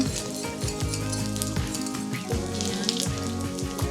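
Beef and mushroom broth simmering in a pot, a steady soft bubbling and light sizzle that stays fairly quiet and even throughout, with no talking.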